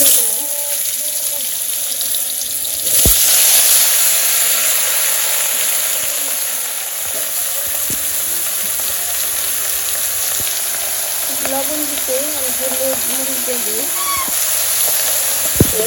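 Vegetables fry with a bay leaf in a hot pan, a continuous bright sizzle running throughout with occasional clinks and stirring, while a person talks over it.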